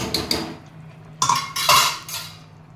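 Metal pot clinks and scrapes as soaked dal is poured into simmering sambar with drumstick and carrot pieces, a few close clattering bursts separated by brief pauses.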